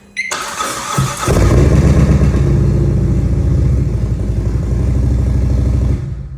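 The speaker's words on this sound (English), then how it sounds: "it's got some awesome louder Vance & Hines pops. Check out how this bike sounds real quick." A 2017 Harley-Davidson Ultra CVO with a 131 Stage 4 engine and Vance & Hines exhaust cranks with a starter whir, fires up loud and close, then settles into a deep, lumpy, rumbling idle for several seconds before cutting off.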